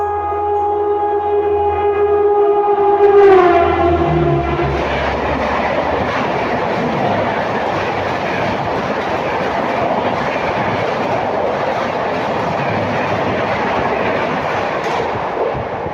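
The IRCTC Tejas Express, Ahmedabad–Mumbai Central, passes close by: a horn sounds at first, then a loud, sustained roar of wheels and rattling carriages with steady clickety-clack continues to the end.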